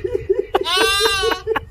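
A goat gives a few short, wavering bleats close up, each brief and nasal, with a human voice briefly audible around them.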